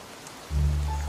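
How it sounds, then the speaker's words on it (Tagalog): Heavy rain abruptly starts pouring in an animated cartoon scene, a dense, steady roar of downpour swelling in about halfway through and holding strong, with no voices. "biglang bumuhos na nga yung napakalakas na ulan na may kasamang kulog at kidlat"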